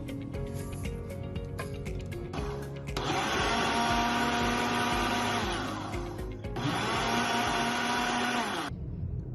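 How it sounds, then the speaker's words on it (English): A kitchen blender mixes a yogurt drink of plain yogurt, cold water and salt, its motor whirring loudly in two long bursts with a short pause between, then cutting off. "We put it in the blender for 30 seconds."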